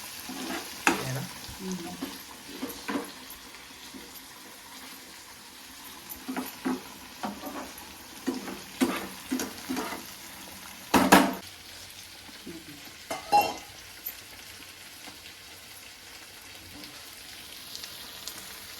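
Fish frying in a pan at home for a crispy fish fry, a low steady sizzle with scattered sharp pops and spatters, plus a few louder clatters of a utensil stirring or turning the pieces, no talking.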